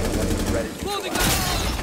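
Gunfire in the tactical shooter game Rainbow Six Siege crackles in rapid bursts, dense and loud throughout, mixed with players talking over it.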